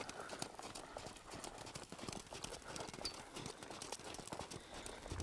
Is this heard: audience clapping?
no